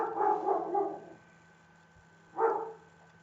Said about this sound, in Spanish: ahí está ladrando un poco el perrito, está en su concierto de la noche